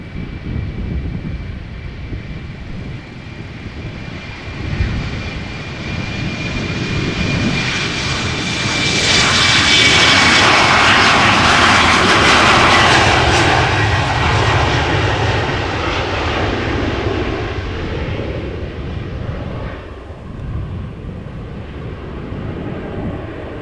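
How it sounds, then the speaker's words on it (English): An Embraer jet climbs out after takeoff at Amsterdam Schiphol Airport, its engine roar swelling to a loud peak midway, then fading into a distant rumble. "Just see how much quicker these Embraers are with climbing"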